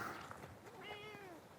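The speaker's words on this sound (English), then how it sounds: "Here comes the cat." A cat gives a single rising-then-falling meow outdoors at sunset, fairly close but soft, against quiet background noise.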